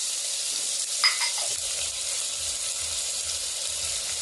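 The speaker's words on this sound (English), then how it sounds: "we're just going to saute it" Salt beef and salt pork pieces sautéing in a pot, a steady, moderately quiet hiss with a brief clink near the start and faint low bubbling underneath.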